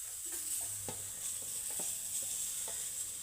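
Carrot pieces sizzle in a hot pan while a spoon stirs them, giving a steady frying hiss broken by light scraping taps, close and without talk, as a filling for a homemade burger is cooked.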